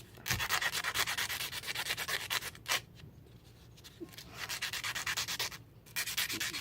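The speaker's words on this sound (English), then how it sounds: "Just give them edges a little bit of a sanding on there" Rapid, rhythmic scratching of 220-grit sandpaper rubbing the edges of a guitar pick cut from an old CD, close up, in quick strokes broken by brief pauses.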